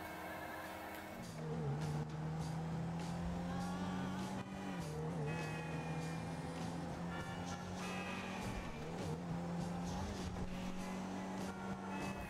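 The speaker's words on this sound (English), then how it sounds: "my very nice Entity is ripping through these streets like no one's business" An Entity sports car tearing through city streets in GTA V, its engine holding a steady droning note with brief rev dips and shifts, continuous and fairly close.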